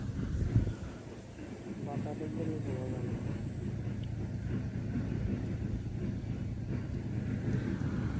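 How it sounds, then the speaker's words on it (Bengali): Steady wind buffets and rumbles across the microphone at an open wetland during fishing, a continuous low roar, with a person speaking briefly under it. "বাতাস তো খুব বাতাস দেখা যায়"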